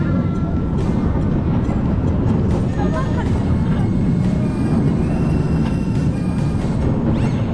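A loud, continuous rumbling roar of a roller coaster train running on its track at Parc Astérix, with rattling and squeals layered over a dense low drone.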